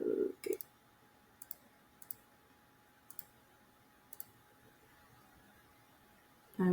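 Mouse clicks advancing PowerPoint slides: five or six faint, sharp single clicks spaced about a second apart in a quiet room, with brief voice sounds at the very start and end.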